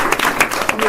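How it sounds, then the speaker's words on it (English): An audience claps for a guest speaker at a business networking event, a brief burst of applause heard close and fairly steady. "let's give her a big round of applause"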